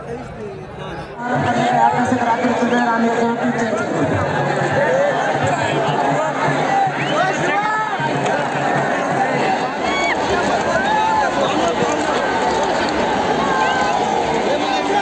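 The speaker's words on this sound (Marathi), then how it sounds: "इथे पूर्ण आपली गर्दी आणि मागं मीडियावाले मीडियाची माणसं" Large crowd of Maratha community members celebrating in a market, a dense close babble of many voices, shouts and chatter rising suddenly and continuing loudly throughout.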